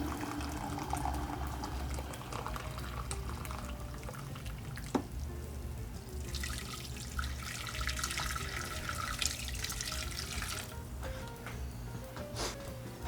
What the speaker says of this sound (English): I'm going to get some hot water. And I'm going to go with 2 cups, right?